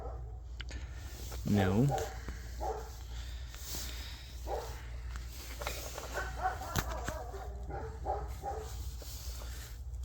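Several dogs bark repeatedly in the background during a cold-weather camping trip at about -5°C, with a louder bark burst early on and a person talking over most of it.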